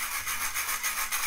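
Plastic balls rattling and rubbing inside a prize-draw lottery drum as it is shaken, a steady close rushing clatter with slight periodic surges.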